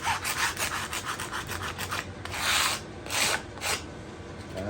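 A wire brush scrubs rust and crud off an old Deckel FP1 clone milling machine, a close, loud run of irregular scratchy strokes with several heavier bursts and no talk.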